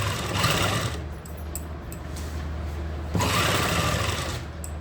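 A sewing machine stitches steadily around a kurti neckline, a continuous close mechanical whir with a slight change in pace partway through and no talking.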